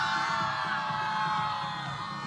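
A rugby league crowd at the NRL Champions of Champions final cheers for the red squad, a steady distant roar of whoops and yells lasting a couple of seconds.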